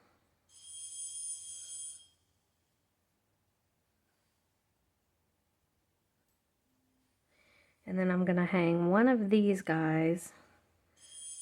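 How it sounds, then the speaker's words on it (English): A telephone rings once in the background, a bright trilling burst of about a second and a half, while beads and jump rings are strung into a multi-strand necklace; after a pause, a person speaks close to the microphone. "I'm sorry for the ringing phone."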